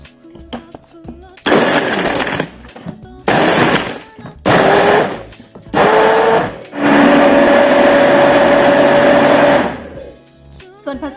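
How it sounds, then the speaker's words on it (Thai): An electric blender whirs through an avocado, cocoa and fresh milk smoothie in loud close bursts: four short pulses, then one longer continuous run with a rising whine before it cuts off. "ใส่ลงไปในโถปั่นเลยนะคะ ไปลงมือปั่นกันเลยค่ะ ปั่นส่วนผสมให้ละเอียดให้เข้ากันดีนะคะ"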